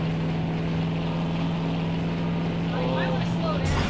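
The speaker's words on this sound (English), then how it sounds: "The engine of the car is so loud." A car engine in the Mafia 2 video game gives a loud, steady drone throughout, with faint game sounds and a voice underneath.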